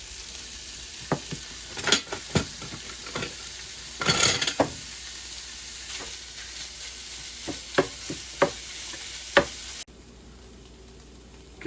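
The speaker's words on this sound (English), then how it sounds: "it's the 60-40 pork and venison mix, the grind. So we're just gonna brown that up" A 60-40 ground pork and venison mix browning in a pan: a steady sizzle with intermittent spatula scrapes and knocks against the pan, close and moderately loud, no talking, then the sizzle cuts off abruptly near the end.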